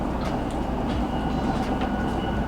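First class train riding to Switzerland, a steady low rumble of the carriage rolling along with faint rhythmic track clicks, even and moderately quiet throughout with no talk.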